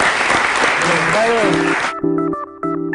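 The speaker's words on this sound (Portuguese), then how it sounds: "Eu queria mais uma vez uma salva de palmas para agradecer." A studio audience applauds a guest on an educational TV programme, the clapping loud and dense for about two seconds before it cuts off abruptly and gives way to a tonal musical sting.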